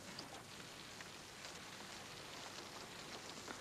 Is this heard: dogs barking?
no